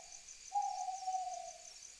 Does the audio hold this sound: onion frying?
no